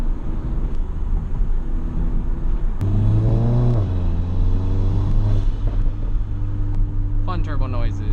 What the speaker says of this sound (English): fun turbo noises